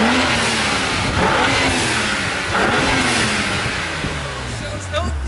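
A BMW 135i engine revs hard with a loud continuous roar and rising pitch, heard up close, then tails off near the end as the blow-off valve releases.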